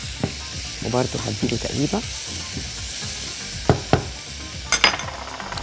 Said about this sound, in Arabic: هنزل دلوقتي التوم المفروم